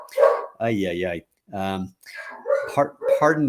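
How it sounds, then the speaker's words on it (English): A dog barking excitedly at a bunny in the neighbouring yard, several loud close barks in quick succession, interleaved with a person talking. "That's my dog, if you can hear him going nutty, because there is a bunny in the yard next door"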